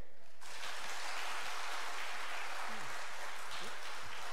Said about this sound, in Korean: 우리 격려와 감사의 마음으로 힘찬 박수로 환영해 주셨으면 좋겠습니다.